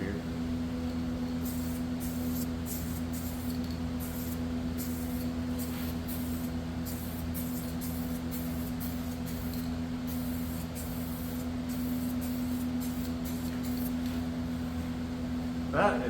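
POR-15 top coat is sprayed onto a mower deck as a steady, continuous aerosol hiss that runs unbroken over a low background hum, close and moderately loud throughout.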